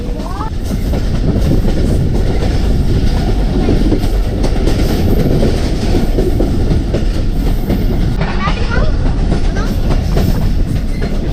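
Jand passenger train 202DN, travelling from Attock toward Jand, gives a loud, close, continuous rumble with rhythmic clickety-clack from the wheels and an occasional faint squeal.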